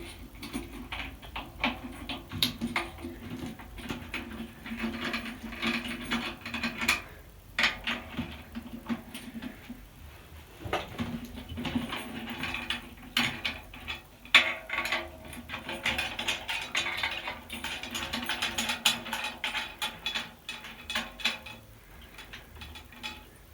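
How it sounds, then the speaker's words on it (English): A drum key works the tension rods loose on a drum kit, producing steady close-up ratcheting and metallic clicking, with small clinks and scrapes continuing throughout and no talk. "once you loosen all the tension rods"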